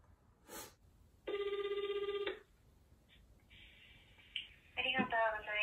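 A call placed to a Dolce & Gabbana store produces a single clear ringback tone of about a second over a quiet line, followed by a voice that begins speaking.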